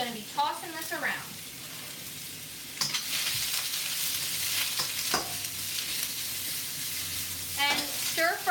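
Vegetables stir-fry at high heat in a hot pan, a steady sizzle with sharp scraping and tossing clatters, while someone talks briefly at the beginning and end.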